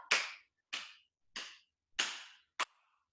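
Five sharp hand claps ring out one at a time in a quiet room during a core workout clap exercise, evenly spaced about half a second apart, the last one shorter and crisper.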